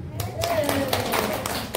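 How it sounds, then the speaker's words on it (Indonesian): Scattered clapping breaks out for a women's religious study group gathering, several sharp hand claps over a murmur of voices and talk. "Tepuk tangan dulu. Untuk majelis KBB ibu-ibu."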